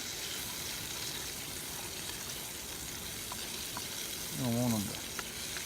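Purple onions fry for an Italian soup at a cold-weather campsite, making a steady, even sizzling hiss throughout, and someone speaks briefly near the end.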